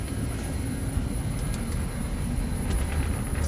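Two standard HVAC compressors running together on a unit drawing 17 amps, a steady loud mechanical drone with broadband hum that holds constant throughout, no talking.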